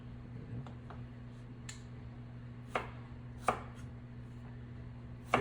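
Sweet potatoes being chopped into bite-size pieces on a cutting board, sparse knife thuds spaced a second or so apart over a quiet kitchen hum.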